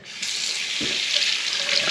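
Hot water running from a newly installed bathroom faucet, a steady close hiss of water streaming into the sink that starts at once and holds at an even level throughout.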